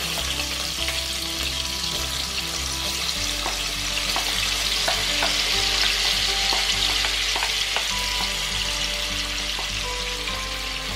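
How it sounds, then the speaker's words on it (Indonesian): Shallots and garlic stir-fried in oil, a continuous dense sizzle with repeated scraping strokes of a spatula against the pan, close and fairly loud throughout, with no talking. "kita tumis bawang merah dan bawang putihnya"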